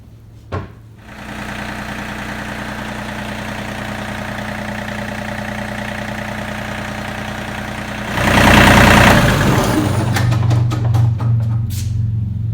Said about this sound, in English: we're going to start it up, let the oil circulate